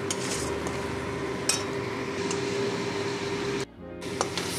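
A spoon stirs radish paste in a pan, with soft repeated scraping and occasional light clinks over a constant background hum, close by and without speech, and a brief dropout near the end.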